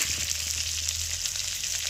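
Onions and curry leaves fry in a very hot pan with a steady, dense sizzle and faint crackles, close and continuous throughout, with no talking.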